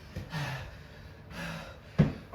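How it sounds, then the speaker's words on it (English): Heavy, effortful breathing during a balls-and-core tabata workout, with several loud gasping breaths in an uneven rhythm, close and fairly quiet apart from one sharp inhale near the end. "I'm sure you can hear me breathing."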